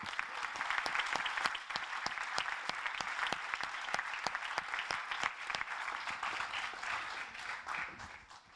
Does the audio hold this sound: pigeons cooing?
no